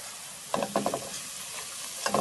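Curry and turmeric powder fry in a pot while being stirred, giving a steady sizzle with a few short scraping stir bursts, close and fairly loud with no talk.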